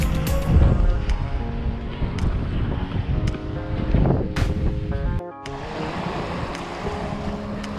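Strong wind buffeting the microphone in heavy gusts during a paddle trip off Mallorca, with water and boat-like noise underneath and a short sudden drop partway through.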